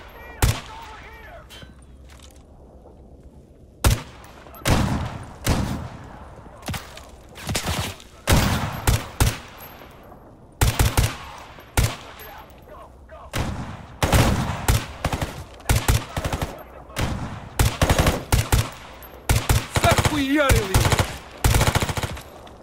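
Gunfire in the video game S.T.A.L.K.E.R. GAMMA, loud bursts of automatic fire and single shots cracking in irregular clusters, separated by brief pauses, with a few background voices.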